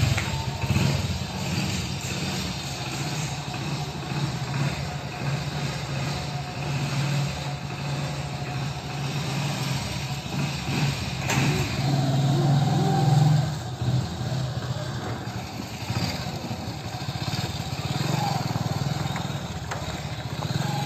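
Steady engine drone and road rumble from a moving vehicle on the way to the Uran fish market, heard close and continuous throughout with wind buffeting and shaking noise, no talking.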